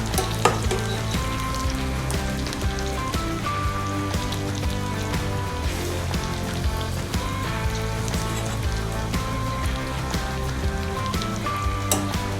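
Gnocchi, nuts and mushrooms fry in a hot pan with a loud, continuous sizzle and crackle, steady throughout with scattered pops and light stirring clatter close by.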